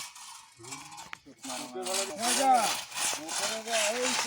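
A saw cuts down an areca nut tree outdoors with steady, rhythmic rasping strokes, while voices talk over the cutting.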